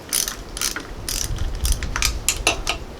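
A 12 millimeter ratchet socket loosens valve cover bolts on a Mitsubishi S3L2 engine in a Cub Cadet 7265 tractor, giving close, loud bursts of rapid ratcheting clicks in short repeated strokes.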